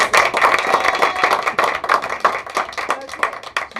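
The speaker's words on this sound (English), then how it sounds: "Let's give Susan a round of applause" A small room at a Toastmasters meeting breaks into applause for a new member, a dense, close patter of clapping hands that holds steady for several seconds.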